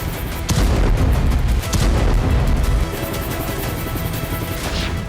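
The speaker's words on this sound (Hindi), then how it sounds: "सीरिया से इजराइल पर रॉकेट दागे जा रहे हैं।" Rockets fired toward Israel, news footage of loud booming blasts and crashing impacts, a couple of heavy bursts followed by sustained rumbling explosive noise.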